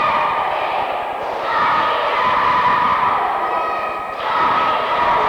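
Fans fill a gym at a 1995 seventh-grade boys basketball game between Greenfield McClain and Miami Trace, a steady, moderately loud crowd murmur rising and falling with scattered shouts.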